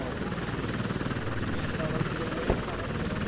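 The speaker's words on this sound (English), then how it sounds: "I mean, this is a huge helicopter" A large military helicopter in an Iraqi airfield battle game hovers nearby, its steady rotor thrum and engine whine filling the background continuously at moderate loudness, with one brief thump near the end.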